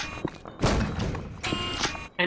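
A few loud, thudding shots of the old Flak Cannon's primary fire in the video game Unreal, each a dull boom with a short ringing tail, spaced unevenly.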